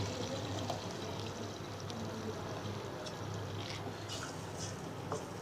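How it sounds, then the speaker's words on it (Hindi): Tamarind water poured into a pot of tomato masala, a soft continuous liquid splash and trickle that stays faint and steady throughout, without talk. "अब इसके अंदर जो इमली का पानी लिया था वो ऐड कर देंगे"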